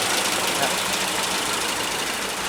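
A Mercedes-Benz W123 with a tuned engine idles nearby, a steady, even rumble that holds without change for the whole short stretch, with no voices over it.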